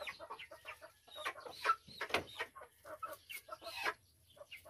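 Several chickens cluck and murmur nearby in an irregular, chattering stream, fairly quiet with soft low background noise.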